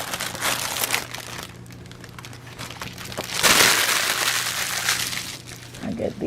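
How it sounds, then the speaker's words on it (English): Plastic bag packaging of a silk stamped cross stitch kit crinkles loudly and close, in irregular handling bursts with a louder rustle midway, with a voice heard briefly alongside. "Sorry about the crinkle"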